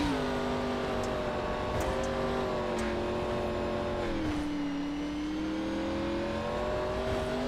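A short track race car engine held on throttle at a Knoxville national tour race, a loud, sustained, steady drone with slight pitch dips as it works through the corner, no talk over it.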